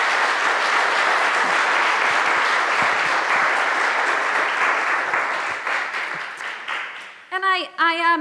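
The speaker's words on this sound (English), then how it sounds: "let's give a round of applause to Robert and John for..." Sustained applause from a conference audience, a dense steady wash of clapping that thins out toward the end before a voice begins speaking.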